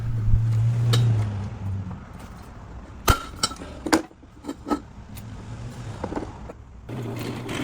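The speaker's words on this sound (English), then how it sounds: "so I went and bought a cap, and just gonna rivet it in place" A cap being riveted onto an old steel fence pipe in a workshop: a few sharp metallic snaps and clinks spaced irregularly over a low background hum, close by and without talk.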